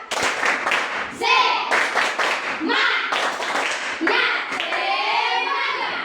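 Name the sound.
class doing a rhythmic spirit clap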